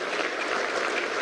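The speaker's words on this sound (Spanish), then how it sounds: "pido un aplauso especial" Steady, dense applause fills a session of Venezuela's National Assembly at its January 2022 installation, a close, loud wash of many hands clapping without a break and with no voices over it.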